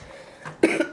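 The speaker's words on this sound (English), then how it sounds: "Still got the cough." A single short, near cough bursts out after a brief quiet breath, with no speech around it.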